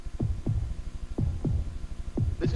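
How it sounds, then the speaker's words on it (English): Heartbeat sound effect from a 1987 Chevy truck commercial: six low thumps in lub-dub pairs, steady and close, over a constant throbbing hum, no voices. "Listen to the heartbeat."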